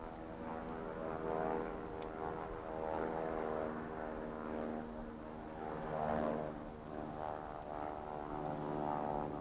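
A Transfield Airtruck agricultural plane carrying a load of chemical flies nearby with a steady, droning propeller and engine hum that swells and fades slightly, while a voice talks over it.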